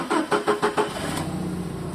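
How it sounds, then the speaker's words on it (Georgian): A loader's engine cranks over in several quick rhythmic bursts, then catches and settles into a steady, close idle with no voices. "ჩვეულებრივი მანქანაა რა, დავქოქავთ."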